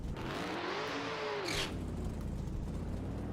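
A drag racing car in a simulator game revs at launch: a close, loud engine whine sweeping up then down in pitch, broken by a short hiss, followed by a rough continuous rumble.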